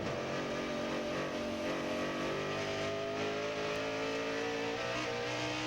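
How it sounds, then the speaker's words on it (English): Mike Wallace's race truck engine drones steadily during a 2000 NASCAR Craftsman Truck Series race, a loud, continuous tone that rises and falls slightly as the throttle is eased on and off. "You can hear Mike Wallace. Listen to the throttle."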